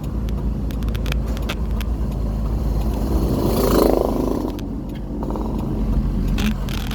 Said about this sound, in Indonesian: Kendaraan bermotor pun baik roda 4 maupun roda 2 masih banyak yang lewat.